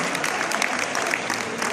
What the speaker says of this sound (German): Ein donnernder Applaus